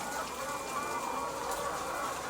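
Chickens on an egg farm clucking together in a dense, steady murmur, faint and continuous, with the hum of the henhouse around them.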